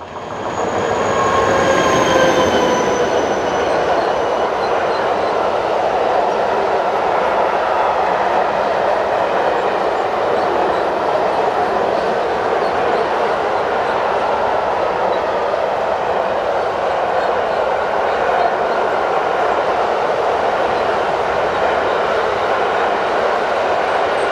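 A diesel-hauled freight train carrying Porsche body shells rolls past close and loud in the Elbe River valley near Usti nad Labem, Czech Republic, a steady heavy rumble of wagons with a brief squeal of wheels near the start.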